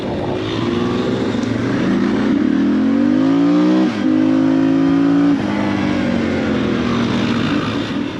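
A Suzuki DR650 dual-sport motorcycle engine revs loudly and close, its pitch rising and falling through several gear-like sweeps as it accelerates, with no voices.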